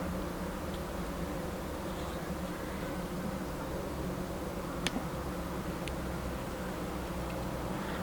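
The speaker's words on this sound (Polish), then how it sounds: "pszczoły, które wyjdą ze skrzynki tej pakietowej" A dense, steady hum of honey bees buzzing inside a package bee box, close and continuous, with a couple of faint sharp ticks partway through.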